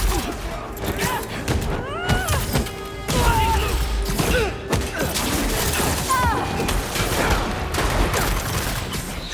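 Rapid gunfire from the Spider-Man 2 video game rattles in dense bursts with thuds and crashes, mixed with loud action effects and voices calling out throughout.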